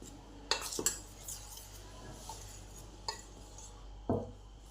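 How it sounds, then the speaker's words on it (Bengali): A spoon mixes dry batter ingredients (sugar, baking powder) in a bowl, giving a few sharp clinks against the bowl's side over a soft scraping background, close and fairly quiet, with no talking. "এবার সমস্ত শুকনো উপকরণগুলোকে ভালো করে মিশিয়ে নিলাম।"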